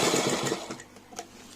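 A sewing machine stitches falls onto a pattu saree in a quick, close mechanical whirr that is loud at first, then eases into lighter, intermittent stitching.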